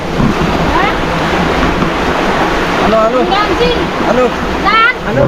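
Strong river current rushing steadily where people are fishing, a dense continuous roar of flowing water close to the microphone, with faint voices briefly audible under it.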